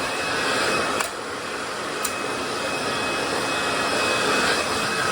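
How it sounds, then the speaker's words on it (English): A hair dryer blows with a steady, loud whoosh throughout, broken only by a couple of faint clicks. "just kind of moving the hair dryer around."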